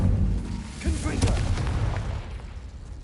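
The Confringo spell explodes in Hogwarts Legacy with a booming, rumbling blast and crackling bursts over a heavy low-end game soundscape. The explosion is loud and sustained.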